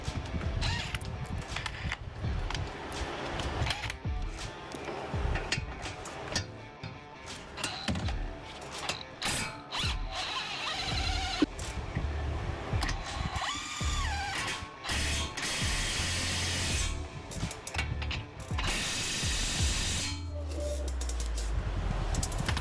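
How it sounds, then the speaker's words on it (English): Ratchet wrench driving bolts back in on a 2014 Audi Q7 during a brake rotor change, rapid clicking pawl bursts repeating in short runs, close and fairly loud over shop background noise. "All right, so we're gonna get the bolts back in."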